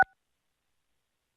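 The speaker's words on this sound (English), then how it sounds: "please enter the following number on your phone's touchtone pad" A single short touchtone keypad beep from a phone during Windows 11 activation over the phone, one crisp two-note dual tone that cuts off at once, followed by silence.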